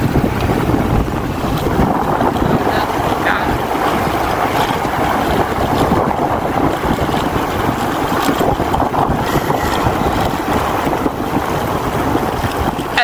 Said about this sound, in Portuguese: chega o vento